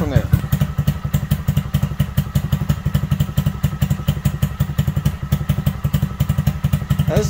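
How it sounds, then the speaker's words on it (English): A Honda Grom MSX125 motorcycle engine idles on its own, a steady, close, rhythmic thumping putter that holds even throughout, with a brief voice at the very start. "we're going to let the bike idle on its own, for a good couple of minutes"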